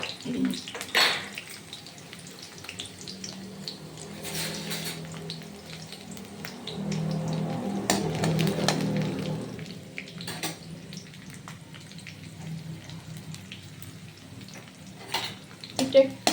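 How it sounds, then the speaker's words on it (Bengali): Chopped garlic fries in oil for a pea ghugni, a soft continuous sizzle broken by occasional stirring clatters and scrapes, with quiet speech heard at moments. "এই রসুন ভাজা হলে তারপরে আমি দিয়ে দেবো পেঁয়াজ কুচি"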